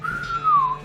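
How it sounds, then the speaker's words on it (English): A video game character in West of Loathing gives a low whistle: a single clear tone that slides gently downward over under a second, loud and alone with no talk. "Pete gives a low whistle."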